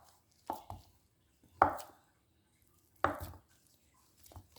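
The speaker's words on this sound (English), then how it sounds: "So I have here Spam and, of course, my corned beef. And I'm going to chop them up." A knife chopping Spam and corned beef on a board, a few separate sharp thuds spaced about a second apart, close and clear with no talk.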